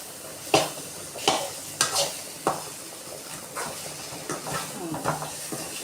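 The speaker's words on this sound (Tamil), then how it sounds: "போட்டுட்டு இது மாதிரி நல்லா கிளறி விட்டுக்கோங்க" Potato fry being stirred with chili powder in a pan: a run of scraping, clattering stirs over a soft steady sizzle, several sharp close strokes, with no talk.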